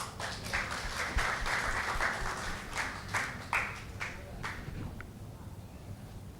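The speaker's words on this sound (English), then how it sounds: "So let's give her a round of applause." Audience applause in a hall during the afternoon session of a Philippine social enterprise conference, a steady moderate round of clapping that thins out and fades toward the end, with a hum of room noise underneath.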